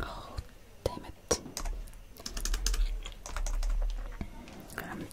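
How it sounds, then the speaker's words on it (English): Rapid typing on a computer keyboard on a typing-test website, with irregular bursts of close, crisp key clicks over a low background hum and some faint whispery sounds. "I'm trying to beat my record for this typing."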